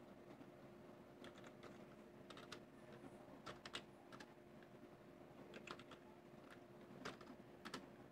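Fingers type on a computer keyboard in quick bursts of soft clicks with short pauses between them. The typing is faint and close against a quiet electrical hum.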